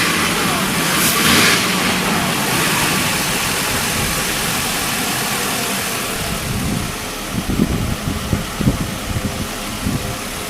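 Mercedes E320 engine idling after a throttle body test, a steady, fairly loud rumble throughout with some uneven low knocking toward the end.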